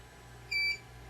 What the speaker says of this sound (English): The beep lets me know that the job's arrived.